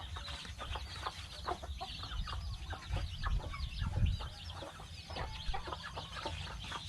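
Domestic backyard chickens raised at home cluck steadily, with a dense run of close, overlapping clucks and short calls from several birds and a low rumble underneath.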